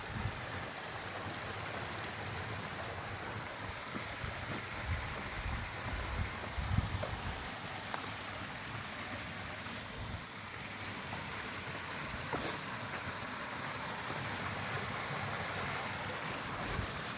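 A mountain stream runs beside a rural plot, giving a steady, even rush of flowing water with a broad noisy wash and some wind, continuous throughout with no voices.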